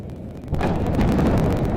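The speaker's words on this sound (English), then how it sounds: "You guys can hear the explosions." Deep, rumbling explosions boom from far away in Gaza, a low continuous thunder swelling after a quieter start, with wind buffeting the microphone.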